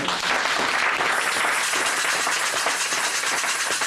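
A church congregation breaks into sustained, even applause for the Lord during a French-language sermon, a dense crowd of clapping hands filling the room throughout.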